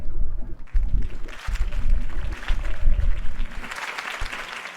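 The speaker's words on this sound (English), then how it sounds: "If only Mr. Wayne, my campaign's largest backer, could have heard that applause" Crowd applause after a campaign speech for Harvey Dent in a Batman video game, a sustained wash of clapping that swells and dips over several seconds, with low rumbling underneath.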